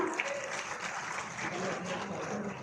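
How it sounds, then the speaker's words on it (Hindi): A crowd applauds at a government ceremony in Maharajganj district, Uttar Pradesh, where sports kits are handed out. The clapping is dense and steady, fairly close, and lasts a few seconds. "एक बार जोरदार तालियां।"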